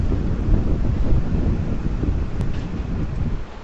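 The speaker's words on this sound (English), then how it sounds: "So the wind just kicked up." Strong typhoon wind gusting on Victoria Peak in Hong Kong, a loud continuous roar buffeting the microphone with rumbling low turbulence and no pause, heard alone without talking.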